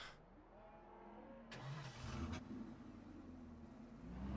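A truck engine in Farming Simulator 15 cranks and catches around the midpoint, then settles into a steady mid-pitched idle hum that continues to the end, fairly quiet with no talking.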